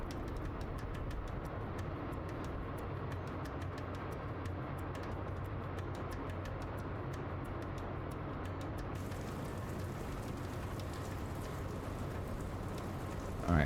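Steady rainfall in the video game Dustland Delivery, a constant, even wash of hiss with no voices, holding at the same level throughout.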